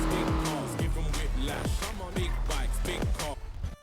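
A car reversing and manoeuvring in GTA NoPixel, engine revving in repeated rising and falling sweeps with tire squeals, close and loud, with faint voices underneath.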